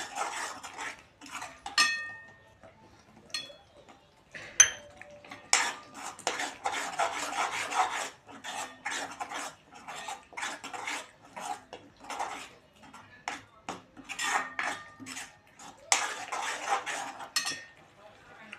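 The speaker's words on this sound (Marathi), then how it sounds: "म्हटलं की आपण यात मसाला मिक्स करून घेऊ." Spoon scraping and stirring homemade masala with turmeric and red chilli in a pan for Kolhapuri misal, a run of irregular metallic clinks and scrapes in bursts, fairly close, with no talk.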